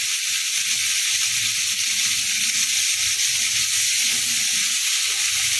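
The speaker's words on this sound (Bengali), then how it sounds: "ততক্ষণ একটু লাল লাল করে ভাজা হচ্ছে ততক্ষণ আমি ভাজতে থাকবো" Steady loud sizzling of bitter gourd frying in hot oil, a continuous bright hiss with faint stirring clatter underneath.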